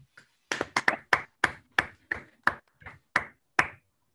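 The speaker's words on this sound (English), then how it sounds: "Okay, let's unmute and give a round of applause to Klaus." A few separate hand claps from online meeting participants after an academic talk, about ten sharp isolated claps in a loose, uneven rhythm, close and clear with no crowd wash or talk.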